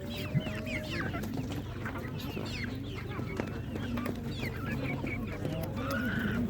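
Several chickens cluck and squawk at a poultry market in Utyn, repeated calls overlapping at close range amid a low crowd murmur and occasional voices.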